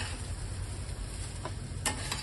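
Boiled rice is stirred in a hot pan for fried rice, giving a steady sizzle with soft scraping from the spoon and a couple of short, louder scrapes near the end.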